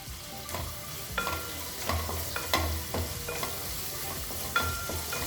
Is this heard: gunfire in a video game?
no